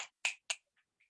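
Finger snapping used to imitate rain during a rain dance: three crisp, close snaps in quick even rhythm, followed by two much fainter taps fading away.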